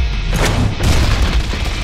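Shotgun blasts boom in the Deadpool video game, a couple of heavy close bursts over dense combat noise.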